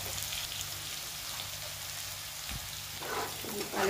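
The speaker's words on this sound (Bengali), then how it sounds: "আলুটা প্রায় ভাজা হয়ে গেছে" Potatoes frying in hot oil with a little turmeric, a steady soft sizzle and crackle throughout, rising slightly louder near the end as the pan is stirred.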